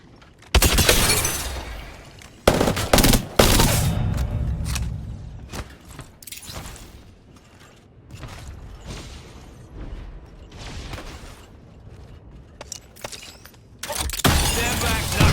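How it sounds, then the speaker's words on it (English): Fuse's knuckle cluster explosives in Apex Legends crack and shatter in loud, repeated bursts, mixed with clanking gear and scattered gunfire-like pops, gaps of quieter rattling between blasts. "Stand back, knuckle clusters firing"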